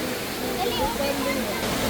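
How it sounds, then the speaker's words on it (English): The world's tallest indoor waterfall, a 40-meter drop at Changi Airport, roars as a steady, full rush of falling water while a voice speaks over it. "This is the world's tallest indoor waterfall, dropping from 40 meters."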